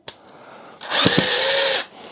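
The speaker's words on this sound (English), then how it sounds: "And now we're just going to put another screw in." A power drill drives a screw through rubber into a 13 kg combat robot fitted with a high-powered brushless drive: a short tap, then about a second of steady, loud whining drill run that stops abruptly.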